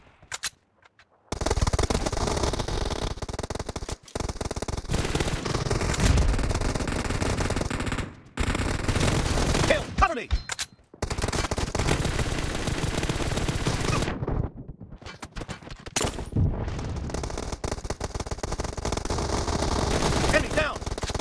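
Dense, continuous automatic gunfire from the mobile shooter Battlegrounds Mobile India fills most of the stretch, loud and close, broken by a few brief silences between rapid volleys during a team deathmatch.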